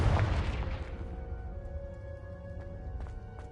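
A Confringo spell explodes in a Hogwarts video game: one loud, close blast at the start that quickly decays into a lingering ringing tone and low rumble.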